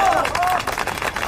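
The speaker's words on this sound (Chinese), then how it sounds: "来，掌声有请。" Audience applause at a folk-song performance event, a short burst of dense clapping mixed with crowd murmur and a bit of talk.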